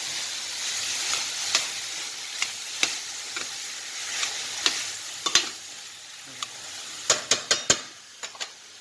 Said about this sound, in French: Et on va bien mélanger.